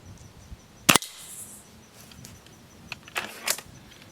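A Beeman Grizzly X2 .22 air rifle fires a single sharp, close crack, followed by quieter clicks and handling knocks from the gun.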